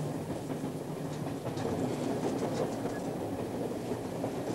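A train rolls steadily along the rails with a continuous rumbling roar and faint rhythmic clatter, close and unbroken throughout.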